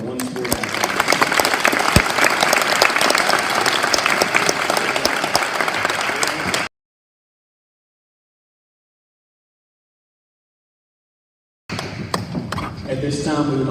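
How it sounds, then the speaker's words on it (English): Loud, dense applause from the crowd at a high school athletic awards ceremony, a continuous wash of clapping that cuts out abruptly into silence for several seconds, then resumes. "Please give a round of applause for our one sport athlete."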